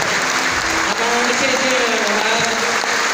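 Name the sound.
audience applause for the president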